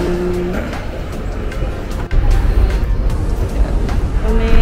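A school-provided car collecting passengers in Hong Kong: a steady, close engine and road rumble inside the vehicle, swelling louder about halfway through, with faint tonal hums and no talk.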